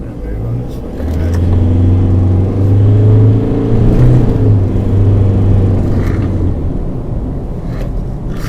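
A Mazda BT-50 3-litre bakkie drives and accelerates, its engine rumbling low and steady with a rising drone that swells and then fades, heard from inside the vehicle.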